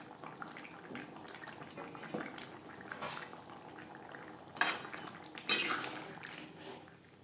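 Fried chela fish goes into a simmering gravy in a pan, with clinks of a spoon against metal, soft sizzling and bubbling, and a couple of sharper scraping knocks near the end.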